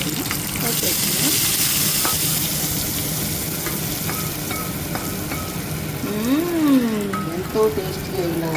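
Tempering of mustard seeds, cumin and dals is poured into a raw banana curd chutney. It gives a bright, continuous sizzle and crackle up close, with a few short voice sounds near the end.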